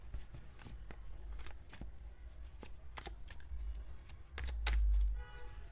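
A tarot deck shuffled by hand, close and steady, a dense stream of papery riffles and taps with a soft thud near the end, no voice over it.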